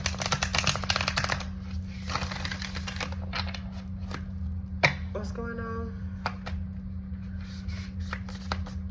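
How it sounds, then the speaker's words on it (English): Playing cards shuffled by hand in a series of quick riffling bursts, close and fairly loud over a constant low hum, with a short spoken question partway through. "Let's shuffle them again."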